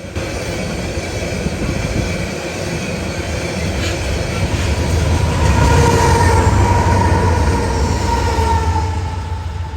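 A freight train of waste containers and gondolas rolls past close by on the UP Condon Branch, with a continuous heavy rumble, rattling cars and faint wheel squeal that swell slightly midway.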